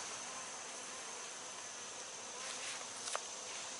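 Honey bees at a hive during a sugar shake treatment buzz in a steady, dense drone, with one louder insect passing close near the end.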